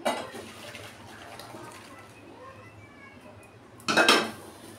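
Bitter gourd and moong dal is poured out of a metal cooking pot. A sharp clatter of the pot opens the sound, a quieter stretch follows, and another loud burst of metal clanking and pouring comes near the end.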